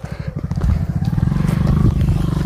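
A motorcycle engine runs steadily on a village road on the way to a temple, its low rumble loud and close throughout, with a faint hint of voices.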